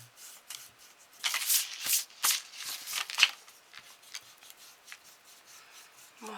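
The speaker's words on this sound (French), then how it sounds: "on gomme, on gomme, on gomme" An eraser rubs over pastel on paper while making a Halloween cascade card, brisk scratchy back-and-forth strokes in uneven bursts, close and moderately loud, fading to lighter scrubbing.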